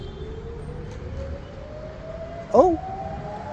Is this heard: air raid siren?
yes